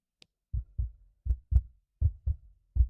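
Low, muffled heartbeat thumps in steady double beats, close and clear against silence, with no talking.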